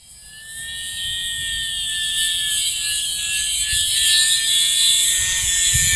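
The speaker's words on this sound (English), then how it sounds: "Quick little flyby there." Small E-flite Pitts S1-S UMX RC plane making a flyby, a high, thin electric motor whine that swells steadily louder as it passes close, alone with no talking.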